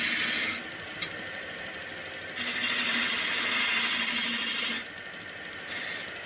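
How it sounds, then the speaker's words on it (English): Half-inch spindle gouge cutting wood on a spinning lathe, a steady close hiss and whir that swells and eases as the tool engages and lifts off the workpiece. "half-inch spindle gouge."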